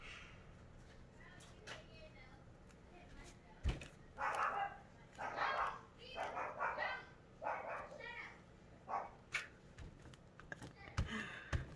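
A dog barks and yips in bursts in the background of a home crafting session, moderately distant and uneven in rhythm, with faint household noise between the barks.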